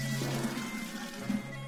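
Water runs from a tap into pots in a Marathi TV drama scene, a steady soft filling rush over a faint background hum, heard alone without talk.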